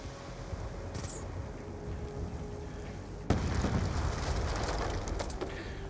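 A loud explosion goes off in the Black Ops 2 video game, a sudden broadband blast that then holds as a sustained rumbling roar over steady background game noise.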